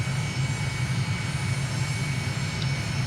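Steady, loud aircraft engine drone from a plane in Microsoft Flight Simulator, flying over a knife-edge ridge above Lake Lucerne, Switzerland, holding an even hum throughout with no voices.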